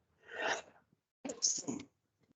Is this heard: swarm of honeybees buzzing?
no